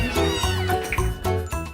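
A small kitten at a Manhattan cat shelter meows repeatedly, loud and close, with rapid, insistent, slightly rising cries.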